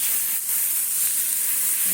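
Two puti fish frying in a pan for a Bengali mustard-poppy seed dish, a continuous close sizzle and steamy hiss without any talking.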